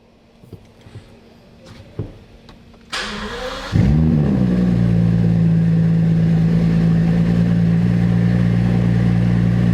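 A damaged Rolls-Royce in a garage sits quiet with faint handling noises, then a whirr as the ignition comes on, followed by the engine cranking and catching into a loud, steady, close idle that holds to the end.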